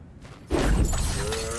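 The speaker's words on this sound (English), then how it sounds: "back to smashing through things for fun and profit" Cracked ground smashed open in God of War Ragnarok, a sudden loud crunching shatter of breaking rock followed by a rumbling, debris-filled tail.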